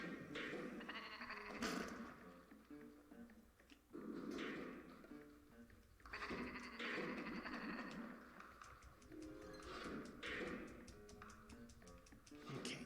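Sheep bleat in the Escape Plan video game, several bursts that come and go at regular intervals and sound moderately close, over faint ticking game sounds.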